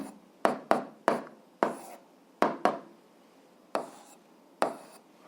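Pen strokes on paper while an equation is written out by hand: a series of about eight crisp, separate scratches and taps in uneven rhythm, close and clear, with quiet pauses between and no talking.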